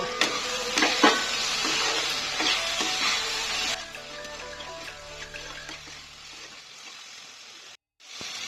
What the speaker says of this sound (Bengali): সিদ্ধ করা লতিগুলো দিয়ে দিলাম ভালো করে নেড়ে নিয়ে